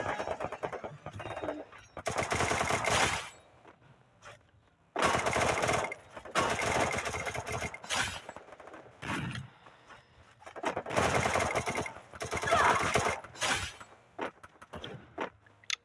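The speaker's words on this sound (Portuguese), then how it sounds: "Nossa, velho, levou um tiro na cabeça." Bursts of automatic gunfire in the Free Fire battle game, several loud rapid volleys separated by short quiet gaps, with faint shattering and footstep-like sounds between them.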